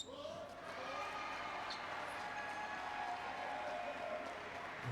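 Spectators in the stands cheer and clap at a Paralympic table tennis match in Rio, a steady broad crowd roar holding throughout with a few scattered shouts rising above it.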